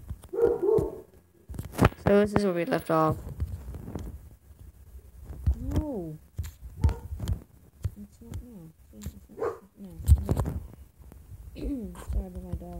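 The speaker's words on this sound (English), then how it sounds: "Sorry about my dog for being really loud." A dog barks and yips several times in short bursts, fairly close, mixed with a person talking.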